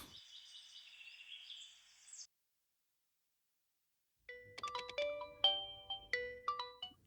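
A phone rings on an outgoing call: a steady electronic tone that stops, then after a pause a brighter melodic ringtone pattern of repeated notes, heard clearly with no talking.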